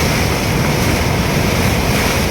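The Machchhu river at Morbi in flood after heavy rain, its rushing water making a continuous, dense roar right up close, mixed with wind noise on the microphone and no talking.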